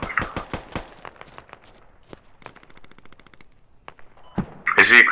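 Gunfire in the video game Squad, aimed at the gunner of an open-top vehicle, starts as a quick burst of sharp close shots. Scattered single reports and a mechanical rattle follow, then a loud blast at the end.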